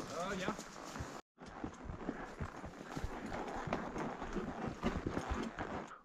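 Donkeys' hooves clop steadily in an uneven walking rhythm on a hill trail, with voices talking over them.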